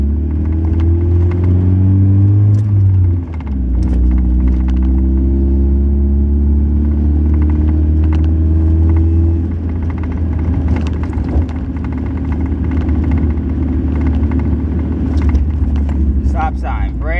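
Car with a manual five-speed gearbox, engine droning steadily from inside the cabin with pitch shifts as gears change and the car slows and pulls away, under a calm instructing voice throughout.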